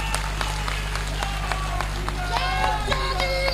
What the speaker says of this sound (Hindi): सबसे पहले मैं ताली बजाऊंगा।